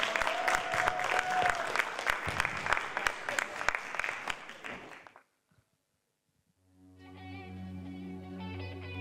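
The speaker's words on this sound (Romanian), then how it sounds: "Multe aplauze!" An audience at a children's song contest claps steadily for about five seconds before the applause fades to silence, and then a musical accompaniment begins.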